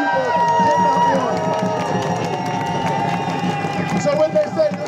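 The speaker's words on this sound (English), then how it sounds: "this huge crowd that you see out here today" Large crowd at an anti-war protest march, a dense murmur of many voices with scattered shouts and clapping, steady and fairly close throughout.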